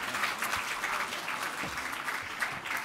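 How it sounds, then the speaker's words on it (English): Fairly faint applause rises from guests at the 2018 WHC Garden Brunch for the Perrotte family, a steady patter of many clapping hands heard from some distance. "And I think that deserves a round of applause."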